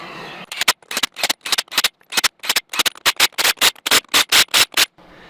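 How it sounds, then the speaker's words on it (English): Lug nuts tightened on a backhoe wheel produce a rapid series of sharp, rasping bursts, about twenty, that come faster and more regularly toward the end. The bursts are close and loud, with short silences between them. "just need to tighten up the lug nuts now"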